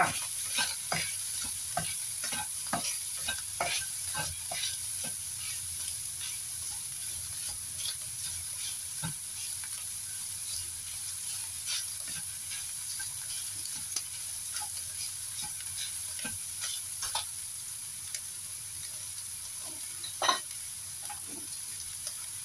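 Ground pork belly filling with pepper being stir-fried in a pan for sago dumplings, a steady bright sizzle with frequent quick spatula taps and scrapes, close and even, no speech.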